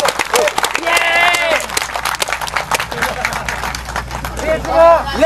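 Outdoor crowd at the 1999 Lake Biwa jogging concert claps in a dense, irregular burst, while voices call out and cheer over the applause.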